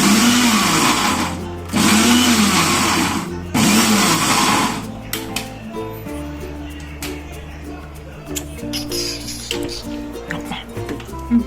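A mixer grinder pulses on and off while coarsely grinding raw mango chutney. It gives three loud, close whirring bursts with short gaps between them, then quieter clattering and handling with a voice in the background.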